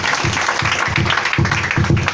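A church congregation at an Easter 2019 service claps together in a steady rhythm to acclaim the Lord, the sound loud, close and brief.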